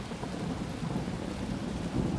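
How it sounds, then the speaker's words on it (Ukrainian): Thunder rumbles through a storm with rain and wind, a dense continuous roar filling the scene without any voices. "Налетіла темна хмара, ударив гром і блискавка."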